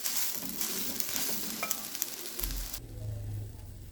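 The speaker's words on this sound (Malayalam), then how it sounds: "ഇളക്കി കൊടുക്കുന്തോറും അത് ഉണങ്ങി വരും." Neelambari (indigo) and henna leaves dry-roasting in a pan while being stirred, making a close rustling, scraping sizzle that drops to a quieter low hum near the end.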